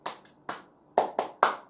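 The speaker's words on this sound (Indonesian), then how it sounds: "sebelum kita mulai dengan tepuk sukacita dulu biar kita semangat" Children's rhythmic clapping game "tepuk sukacita" at an online children's faith class: five sharp hand claps in a short rhythmic pattern, two spaced apart then three quicker ones, close and clear with no talking.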